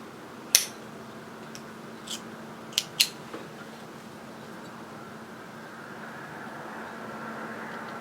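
Scissors snip loose threads after hoodie seams are sewn, giving a few sharp, separate clicks close by over a faint steady room hum.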